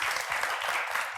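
A forum audience on climate, landscape and agriculture applauds its organiser: a dense, steady wash of many hands clapping together, close and full for the whole brief moment.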